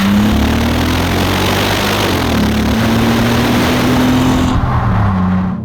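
Bentley Continental GT engine pulling hard under acceleration, a loud, continuous low drone with a steadily rising pitch that drops after a gear change, cutting off near the end.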